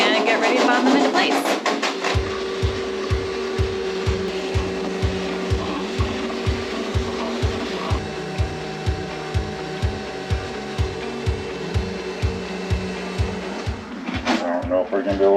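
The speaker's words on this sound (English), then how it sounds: "Giving it a sand now." Sanding the cabin top support beams of a sailboat, with a steady machine whir and a regular rapid pulse running for most of the stretch, fairly close and alone without talk.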